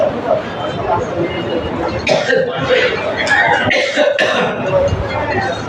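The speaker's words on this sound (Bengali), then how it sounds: "একটু কথা বলতে গেলে কাশি এসে।" A man coughs and clears his throat during an outdoor Eid gathering in Munshiganj. The coughs come in a few bursts over steady crowd murmur, with people talking around him.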